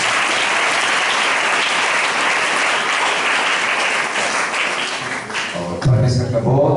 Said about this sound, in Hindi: सारी गवाहियों के लिए एक बार फिर से जोरदार ताली बजाएंगे